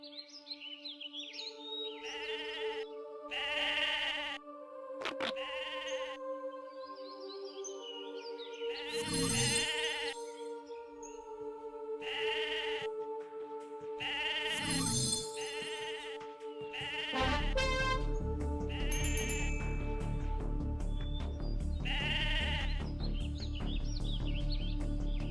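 Several sheep bleat in the video game Mabinogi, repeated calls arriving in bursts over steady game background music, ending with a louder, denser stretch of sound.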